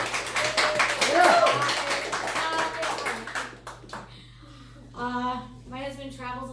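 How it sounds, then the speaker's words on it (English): A live audience claps in a dense burst of applause that fades out after about three seconds, followed by a voice talking. "I want to hear applause."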